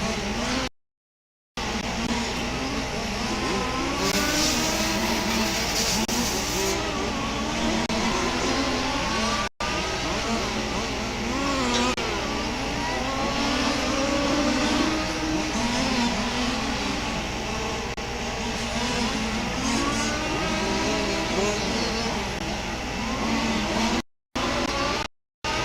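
A race car accelerates through a fast lap at Warm Springs, its engine a steady loud drone with rising and falling pitch sweeps through gear changes, heard alone with only brief dropouts.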